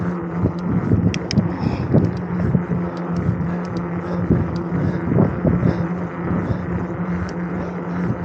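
Wind gusts across the microphone on a humid day along Oyster Creek Trail, a continuous rough buffeting rumble that rises and falls in close, loud surges with no talking.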